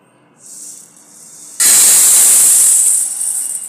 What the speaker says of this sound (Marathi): आता मी ते एका भांड्यात काढून घेते आणि पाण्याने स्वच्छ धुवून घेते